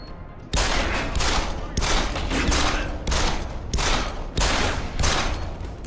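Pistol fire in the video game Deus Ex: Human Revolution Director's Cut, loud, close shots fired in rapid succession, forming several dense bursts separated by brief gaps, with no talk over them.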